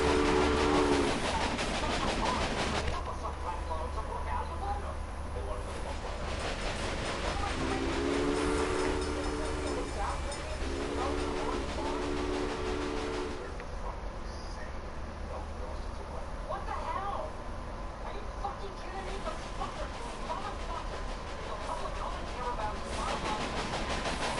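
Steam train from the railway building game Railway Empire, running with steady chugging rumble and rail noise throughout, broken by several short whistle toots near the start and middle, with a voice talking over it.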